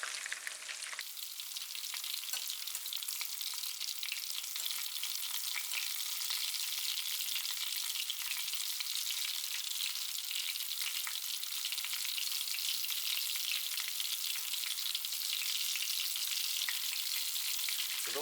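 Whole perch sizzle and fry steadily in a hot pan, a dense, continuous crackle that stays loud and even throughout with no talking.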